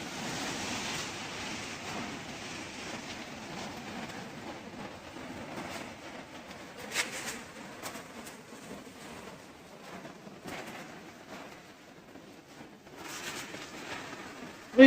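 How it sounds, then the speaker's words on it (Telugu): A waterfall along an adventure road, heard as a steady broad rushing roar throughout, moderately loud and unbroken, with a few faint brief knocks over it. "భలే ఉంటుంది వాటర్ ఫాల్."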